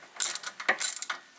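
A ratchet tightening the brake caliper bolts on a 2004 Volkswagen Jetta TDI, a few quick bursts of close metallic clicking separated by brief pauses.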